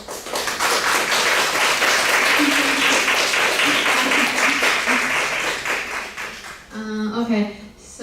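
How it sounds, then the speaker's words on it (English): An audience applauds at the end of a WiDS Taipei 2019 talk with dense, sustained clapping for about six seconds, fading as a voice starts speaking near the end. "so let's give Bastiane an applause too."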